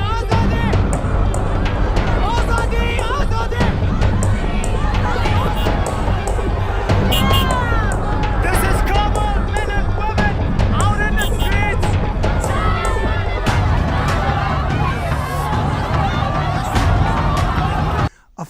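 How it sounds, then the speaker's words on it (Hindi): A dense crowd of protesters chants slogans outside the Pakistan embassy, a loud and continuous mass of voices with overlapping shouts that carries steadily throughout before cutting off abruptly at the very end. "पाकिस्तान के एम्बेसी के बाहर नारे लग रहे हैं, मर्ग बर पाकिस्तान"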